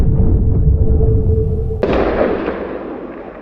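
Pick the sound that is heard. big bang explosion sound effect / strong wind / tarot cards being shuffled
big bang explosion sound effect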